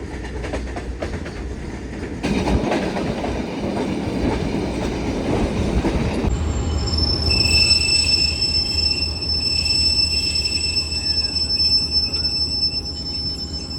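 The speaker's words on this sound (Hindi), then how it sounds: "तो तकरीबन 85-90 की स्पीड में ट्रेन अभी चल रही है" Awam Express passenger train cruising at about 85–90 km/h, a steady loud rumble of wheels and carriage noise with high metallic squeals and whines rising midway through, continuous throughout.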